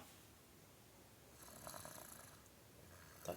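A small boy snores softly and faintly at close range, with one or two gentle drawn-out breaths against a quiet background hiss.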